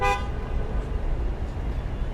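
A car horn toots once, short and loud, at the start amid downtown Miami night traffic, followed by a steady low roadway rumble.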